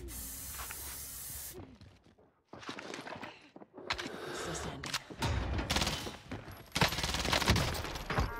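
MAC-10 submachine gun fire in Call of Duty on Rebirth Island, coming in loud, dense bursts of rapid shots broken by short pauses, with game effects and noise in between.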